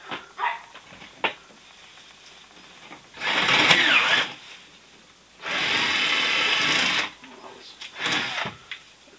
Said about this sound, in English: Much easier to get that small drill bit through first.